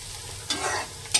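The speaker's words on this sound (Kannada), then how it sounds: "ಬರೀ ಎಣ್ಣೆ ತುಪ್ಪದಲ್ಲಿ ಫ್ರೈ ಆಗಬೇಕು ಮೆಂತ್ಯ ಸೊಪ್ಪು" Fenugreek leaves fry in oil and ghee in a pan for a side dish, a close, steady sizzle broken by a couple of quick stirring scrapes.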